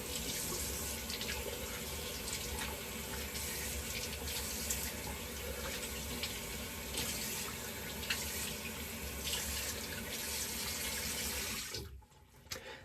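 Tap water runs steadily into a sink to rinse a stainless steel razor during a shave, a loud continuous close rush that shuts off abruptly near the end.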